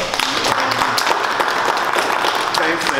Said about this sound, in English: And let's give Mr. Oscar Hopkins another round of applause.